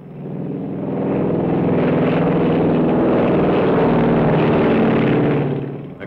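A B-25 bomber drones during bomb cluster tests at Edgewood Arsenal, a loud, steady engine roar that swells in over the first second, holds evenly, then fades slightly at the end, with no voices.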